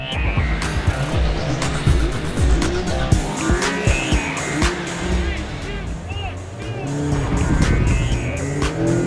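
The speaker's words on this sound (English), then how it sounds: "A little bit of wheel slip off the line, and I'm a little bit behind the 6-speed, but now I'm just powering right past him" A 2016 Mazda MX-5 makes a drag-race launch with wheel slip alongside 2015 MX-5s. The engines rev hard and rise and fall through repeated loud gear changes, with a squeal of tires near the start.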